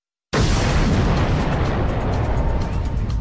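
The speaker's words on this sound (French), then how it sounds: "C'est l'explosion de ce point" A huge explosion used as a sound effect for the Big Bang hits suddenly out of silence and continues as a loud, sustained roaring rumble for about three seconds, with no voices.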